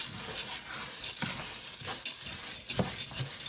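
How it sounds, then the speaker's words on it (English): Egusi melon seeds frying in a pan, a soft continuous sizzle with rhythmic scraping stirs every half second or so, close and fairly quiet. "So when you fry the egusi"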